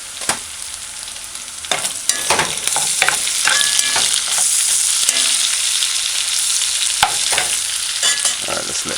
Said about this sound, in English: let's let that saute